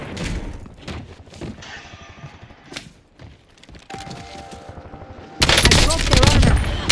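Rapid gunfire crackles through a video game war zone as enemies drop in, with scattered bursts and thumps building into a loud, dense volley near the end.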